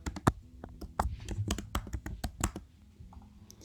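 Fingers type on a computer keyboard, sharp close key clicks landing in quick irregular bursts, then a brief pause with a few softer taps near the end.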